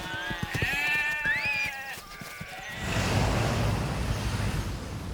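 Sheep in a herd bleat several times, close and clear, during a puppy herding test, then give way to a broad rushing outdoor noise.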